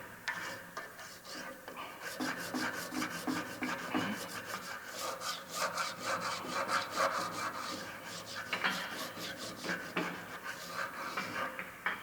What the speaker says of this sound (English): Okay, now that was a fairly coarse file.